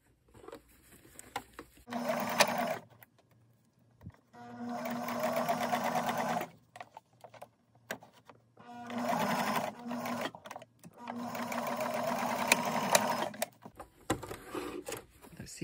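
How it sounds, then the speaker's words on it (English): A sewing machine stitches a seam on shorts cut down from long pants, in three or four distinct bursts of steady mechanical whirring separated by quiet pauses, close and clear. "we're sewing at half an inch"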